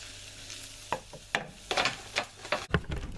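Mushrooms, added to the pan for a steak sandwich, sizzle softly under a string of sharp scrapes and clacks as a utensil stirs and pushes them around, close and fairly quiet.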